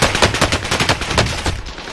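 Rapid automatic gunfire from a Battlefield-style shooter video game, a dense, continuous stream of shots loud and close throughout with no talking.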